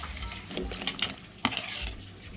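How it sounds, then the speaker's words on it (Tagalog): Tomatoes are tossed into a hot pan of sizzling onions and stirred, giving a steady loud sizzle with scraping and clinking of a utensil against the pan, close by. "ilagay na natin ang ating kamatis"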